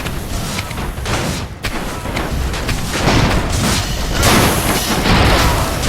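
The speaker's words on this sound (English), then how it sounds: "We've got so many goddamn cannons" Cannon fire from steampunk airships battling in Airships: Conquer the Skies, a dense, sustained barrage of booming shots and crashes blending into a loud, continuous roar.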